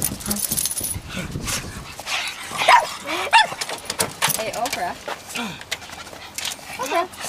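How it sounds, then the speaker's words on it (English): A pug gives short excited greeting barks and yips mixed with whimpers, close by, scattered through the clip while people talk to it. "that's what I wanted to get, is her bark, her greeting bark"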